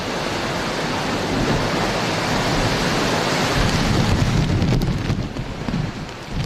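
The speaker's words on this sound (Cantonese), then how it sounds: "杏花村海旁嘅位置非常大風同埋大浪" Strong typhoon wind and heavy surf roar along the Heng Fa Chuen seafront in Hong Kong, a dense, steady rush of noise close by that eases a little near the end, with no voices.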